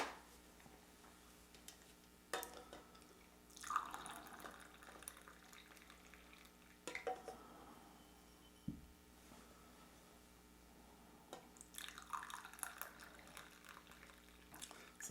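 Hawaiian Mokka coffee is poured at close range in a quiet kitchen, with a few soft liquid splashes and trickles and brief clinks between quieter pauses.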